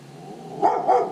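A dog gives two quick, fairly close barks in a row near a garage framing job site, over a low steady background hum.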